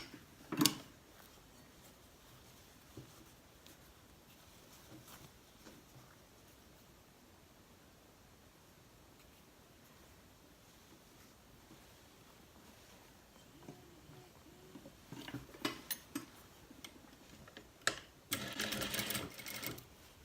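Sewing machine stitching the sleeve hem of a Celine dress, a faint steady running hum with light ticking, then louder bursts of handling noise near the end.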